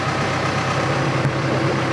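A tractor engine idles steadily up close, a loud, continuous low rumble with no other sounds over it.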